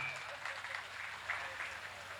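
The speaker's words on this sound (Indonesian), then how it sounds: "tepuk tangan untuk Pak Bupati kita" Audience at a regency-level Quran recitation competition event in Banyuasin applauds the regent, faint, fairly distant clapping spread evenly across the short moment, with no one speaking over it.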